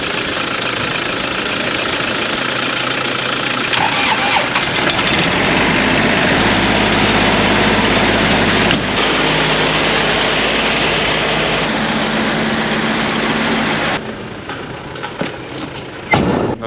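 Engine on jumper leads, with a loud, steady, rough running drone and knocking vibration through most of the stretch, then dropping back and fading near the end.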